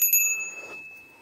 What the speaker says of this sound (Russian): Вот такие колокольчики.